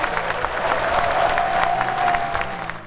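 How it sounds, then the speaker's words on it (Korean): Applause for President Moon Jae-in in a Korean political talk-show studio: a dense patter of many hands clapping steadily, then thinning out at the end. "문재인 대통령께 힘찬 박수를 부탁드립니다"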